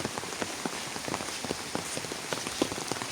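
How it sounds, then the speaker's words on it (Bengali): Rain falls steadily on a village morning, with scattered drops pattering on surfaces close by over a soft continuous wash, and no talking. "আল্লাহ রহমতের বৃষ্টি হয়ে গেল"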